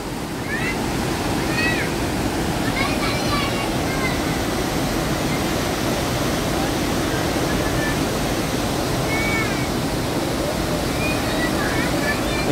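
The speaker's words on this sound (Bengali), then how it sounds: "এখন প্রচুর জল পড়ছে বলে বোঝা যাচ্ছে না" Heavy water crashing down at Dassam waterfall, a loud, steady broadband roar that runs unbroken throughout, with faint chirps on top.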